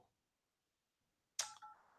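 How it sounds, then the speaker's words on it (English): A telephone being dialed to reach an organization in New York gives a short burst of dialing tones after more than a second of near silence, then a fading tone, faint and alone. "I'm going to try calling New York back one more time, see if they pick up the phone."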